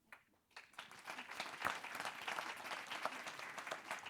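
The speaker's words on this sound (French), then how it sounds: "On peut l'applaudir aussi, s'il vous plaît." An audience at a live stage event claps as a speaker walks on: brief quiet, then full, steady applause that swells and holds to the end with no talk over it.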